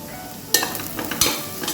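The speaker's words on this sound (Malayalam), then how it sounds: "ഇനി പൊടികളുടെ പച്ചമണം മാറുന്ന വരെ ഒന്ന് ഇളക്കി കൊടുക്കുക" Stirring biryani garam masala and spice powders in a hot pressure cooker, with a couple of sharp scraping strokes over a soft sizzle, alone and close.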